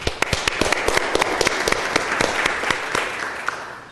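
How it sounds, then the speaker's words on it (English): Audience applause at a Board of Supervisors meeting welcoming a guest speaker, dense clapping with sharp individual claps standing out, steady throughout and tapering slightly at the end. "So please give us a round of applause for Mr. Fouts"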